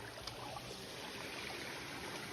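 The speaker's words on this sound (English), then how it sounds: "I love how the water just goes down through here and like little levels going all the way down through the mountains" Stream water tumbling down small stepped drops beneath a bridge along a mountain trail in Hickory Run State Park, a steady, dense rushing wash that stays constant throughout with no pauses.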